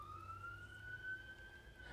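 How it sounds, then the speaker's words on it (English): Faint police sirens wail in the distance, the tone slowly rising, over a low background hum. "Can you hear the sirens?"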